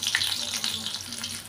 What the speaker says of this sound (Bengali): দেখুন, ডিমগুলো ঠিক এইভাবে ভেজে নিতে হবে।